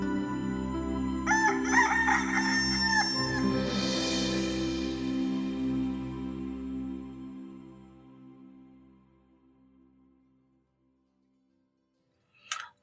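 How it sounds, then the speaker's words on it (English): A cockerel crows loudly and close up, giving one long, drawn-out cock-a-doodle-doo that fades slowly into silence, followed by a brief click at the end. "the next time you're up early enough to hear the cockerel crow"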